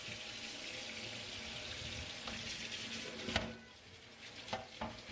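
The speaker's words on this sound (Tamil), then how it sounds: "டேப் ஓப்பன் பண்ணி வச்சுட்டு ஈஸியாக இப்படி க்ளீன் பண்ணிவிடுங்க" Tap water running steadily while a wet grinder is brushed clean, a continuous faint splashing stream with a few scrubbing knocks and clatters.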